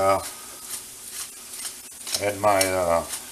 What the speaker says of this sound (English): And we're going to sweat these down, caramelize them up.